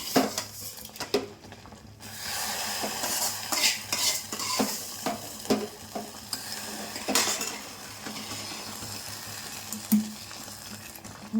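Vermicelli roasting in a pan for a semiya sabudana payasam, stirred with a utensil that scrapes and clinks against the metal at irregular intervals over a light background sizzle.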